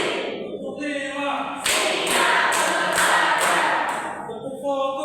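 A classroom claps hands in a rhythmic five-beat pattern during a micro-teaching practice lesson, sharp claps repeating evenly for a few seconds amid room noise, with voices before and after.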